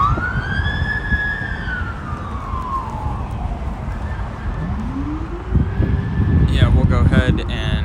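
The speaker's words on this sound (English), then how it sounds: "We got a police car too." A police car siren wails in slow rising and falling sweeps at Los Angeles International Airport, loud over steady background rumble, with a sharper burst of siren chirps near the end.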